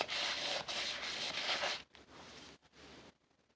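Sandpaper rubbed by hand across wood in a figure-8 pattern while repairing a chair, a steady close scratchy rasp in continuous strokes that pauses briefly, then quiets and fades out near the end.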